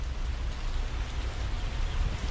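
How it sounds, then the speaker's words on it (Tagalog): Steady rain pours down in a dense, even hiss that leaks into a house during a flood, loud and continuous with no voices. "Pumasok yung ulan dito sa bahay namin."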